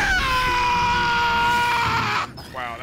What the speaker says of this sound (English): Wow, that scream was loud.